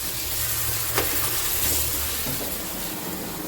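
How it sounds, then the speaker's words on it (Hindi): Tadka tempering for black masoor dal sizzles and crackles steadily in hot oil, a continuous close frying hiss with faint stirring and no talk. "यहाँ पर हो रहा है इसका तड़का तैयार"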